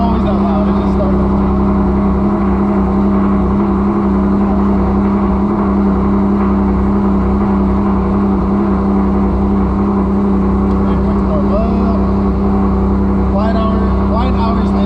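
A freshly started car engine runs loud and near, a steady low rumble with slight rises in pitch, as people talk over it throughout.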